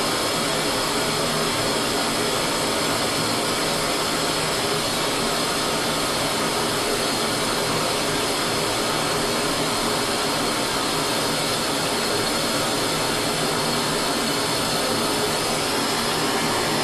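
Steady, loud torch roar heating a chamfering tool for silver brazing, a continuous broadband hiss that holds unchanged throughout with no talk.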